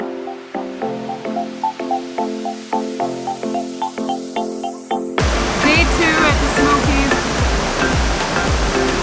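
A waterfall's steady roar suddenly fills everything after several seconds of soft melodic notes, a dense, loud rushing wash that continues without a break at a natural site on a Southern US road trip.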